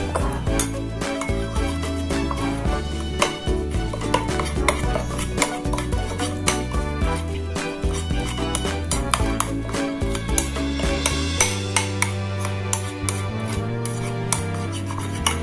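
A spoon scrapes and rubs steadily around a pot as milk is stirred into opor broth, a continuous close rasping with small metallic clinks, heard alone.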